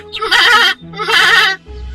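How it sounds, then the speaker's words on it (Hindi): A goat bleats twice, loud and close, each call a long wavering cry of under a second, with a short gap between them. "दोनों बकरियां घास चरने लगी"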